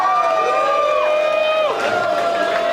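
A live poetry-slam audience in Houston cheers loudly and continuously, with shrill whistles and whoops rising and falling above the roar of the crowd.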